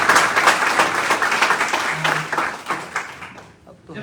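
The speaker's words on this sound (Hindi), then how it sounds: "तो मैं चाहूंगा कि आप सबके लिए जोरदार ताली।" A large crowd at a packed motivational gathering breaks into loud, sustained clapping that fills the room, then thins out and tapers toward the end.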